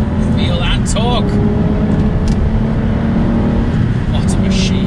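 An Aston Martin DBS engine accelerates from inside the car as a loud, continuous low roar and rumble of road noise that fills the whole clip, heavy and close.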